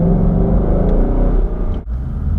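A 2020 Ford Mustang GT with its 5.0 V8 engine rumbles loudly and steadily from up close, a deep continuous growl that dips briefly near the end before settling back into a strong idle-like drone.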